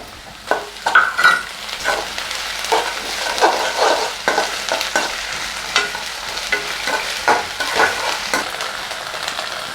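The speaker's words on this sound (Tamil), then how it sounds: "இப்போ வெங்காயம் சேர்த்துக்கிறேன். நல்லா வதக்கிக்கோங்க." Onions sauté with ginger garlic paste in a pan for a potato capsicum gravy. The steady sizzle is broken by repeated, irregular scrapes and clatters of a spatula stirring, close and fairly loud, with no talking.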